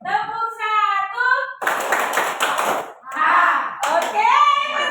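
A group of adults clapping together on command during a clapping game, with short loud bursts of hands between spoken calls. People talk throughout.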